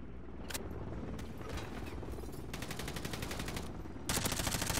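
MP5 submachine gun bursts in Modern Warfare 3, several rapid rattling volleys of close, crisp shots separated by brief pauses, with the loudest burst at the end.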